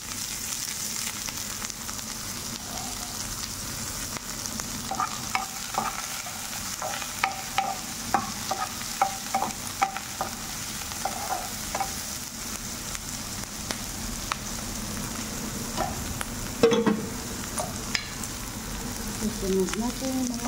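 Garlic fries in a little cooking oil in a home kitchen, a soft, steady sizzle with scattered faint pops and occasional utensil clicks, fairly quiet throughout.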